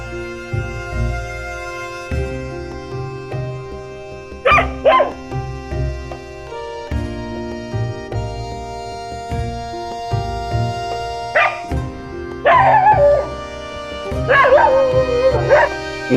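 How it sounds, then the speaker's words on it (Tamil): Dogs near a brightly lit Amman temple at night give several short, loud bursts of barking and yips, scattered across a constant humming tonal background. "பத்தாத்துக்கு இந்த நாய்ங்க வேற கிளம்பிடுச்சு"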